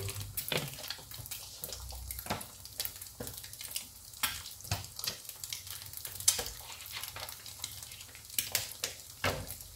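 An egg frying in a pan, a soft crackling sizzle with scattered sharp pops and spits, fairly quiet and close, with no voices over it.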